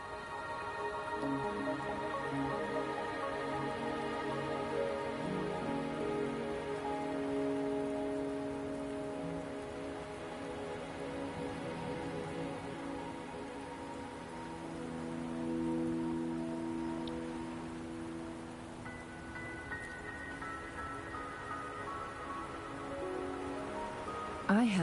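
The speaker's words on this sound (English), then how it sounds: "Are you trapped here by the rain?" Rain falls in the video game Wuthering Waves, a soft steady patter beneath sustained melodic game music, faint and continuous throughout.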